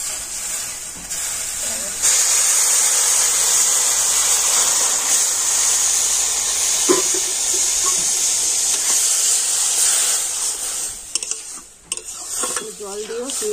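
Water poured into hot pan-roasted semolina for a Turkish-style yogurt halwa, giving a loud, steady steaming hiss with stirring scrapes that carries on throughout and tapers near the end.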